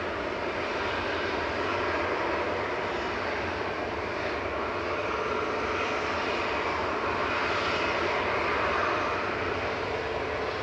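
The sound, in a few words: Lufthansa airliner departing Manchester Airport for Munich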